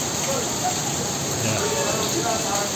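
Steady rain at an outdoor food park in India, a dense, even hiss that holds without a break throughout, fairly loud and close.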